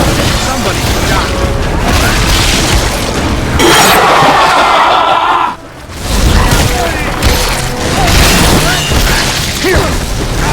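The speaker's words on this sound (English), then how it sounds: "Somebody shot." Gunshots in Evil Dead: The Game, loud booming blasts and bursts amid dense, noisy game action with a brief lull partway through.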